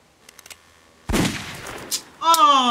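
A single gunshot in The Walking Dead video game, a sharp loud blast after a few faint clicks, followed by a brief noise burst and then a voice speaking.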